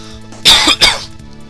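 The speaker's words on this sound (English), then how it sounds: "Coughed right into my mic." A person coughs twice right into a microphone, a loud, close, harsh double burst over quiet game music.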